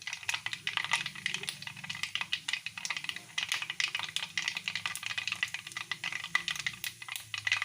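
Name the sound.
mustard seeds spluttering in hot oil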